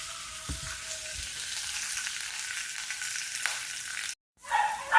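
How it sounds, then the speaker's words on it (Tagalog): Dried fish frying skin down in a pan, a faint continuous sizzle with a few soft knocks early on, close and steady before a brief dropout and louder noise at the end. "Always skin down when you fry or when you cook or fish."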